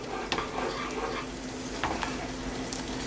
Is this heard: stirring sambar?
yes